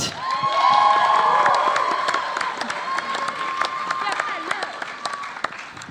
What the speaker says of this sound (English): A round of applause to Bella, who will be kicking off the debate